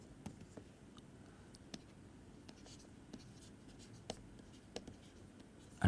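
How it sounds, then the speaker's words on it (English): Chalk or pen taps and scratches faintly on a board as an equation is written out, in soft irregular strokes in a quiet room, with no voice over it. "So let me just write it down."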